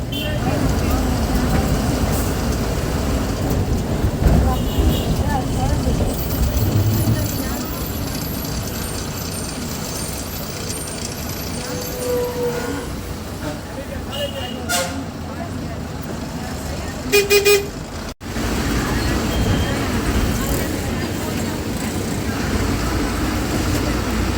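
Private town bus driving along a road, a steady engine rumble and road noise under cabin sounds with brief rattles and clunks, continuous throughout with a short break near the end.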